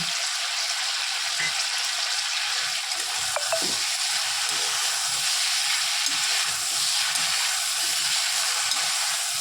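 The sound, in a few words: green peas stir-fried in a wok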